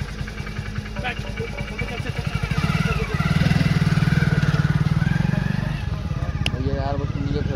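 A motorcycle engine idles, then revs louder for a few seconds before settling back, with people talking over it.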